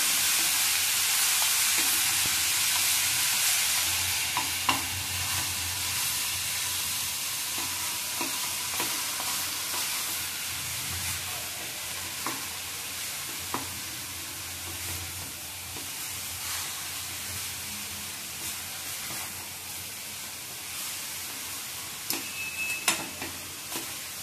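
Mawa (khoya) roasts in ghee for carrot halwa, with a continuous close frying sizzle and occasional light spoon scrapes and taps as it is stirred. No talking.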